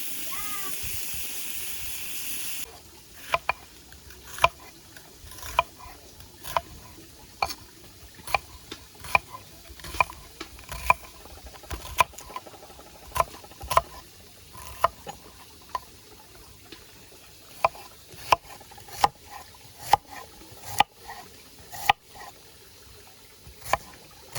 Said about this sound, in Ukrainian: мілко нарізаємо цибулю